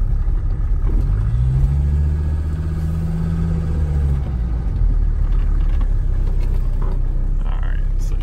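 Mercedes 300D diesel with rebuilt injectors driving along, a loud continuous engine drone heard from inside the car, pitch climbing and levelling as it accelerates through a gear, with road rumble underneath.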